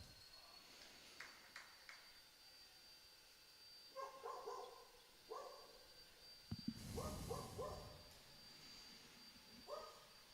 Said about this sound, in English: Even the dogs are getting excited.